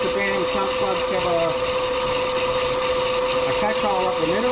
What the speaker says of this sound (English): Coolant pump now back on, and I'm going to start drilling up the middle.